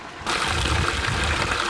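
Running water flows on a mountain hiking trail near the Choquequirao ruins, a close, steady rushing splash that starts abruptly and continues without pause.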